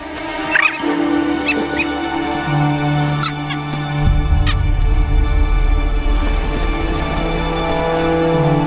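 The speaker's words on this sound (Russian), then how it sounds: "Даже альфа не может справиться с разъяренными птицами." Angry skuas attack a wolf in the Arctic, giving loud, close, repeated harsh calls and squawks over several seconds, with a steady droning tone running underneath and no voices.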